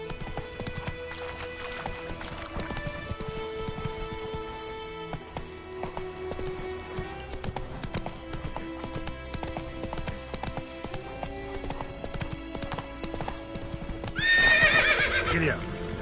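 Roach the horse gallops with rapid, rhythmic hoofbeats in The Witcher III, ending in a loud neigh, with game music and a voice running underneath.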